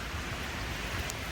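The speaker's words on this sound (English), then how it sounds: "It might fall over from the wind and rain" Wind and rain beat down during a storm beside railroad tracks, giving a brief, dense, steady hiss and rumble close to the microphone with no voices.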